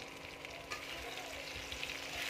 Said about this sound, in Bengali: মূলো দিয়ে দিচ্ছি, ঝিঙে দিয়ে দিচ্ছি, দেখো টমেটো দিয়ে দিচ্ছি।